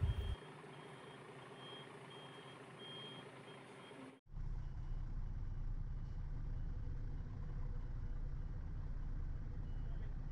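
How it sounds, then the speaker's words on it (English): A truck reverses a trailer into a loading bay, its reversing alarm beeping steadily over an idling engine before the beeps cut off and a louder, rougher engine drone takes over. "the bay that I am backing my trailer into"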